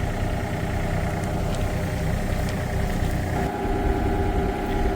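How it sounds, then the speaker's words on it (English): A heavy diesel excavator engine runs steadily at close range, a constant low rumble with a mechanical clatter and no voices. "I'm using the excavator now."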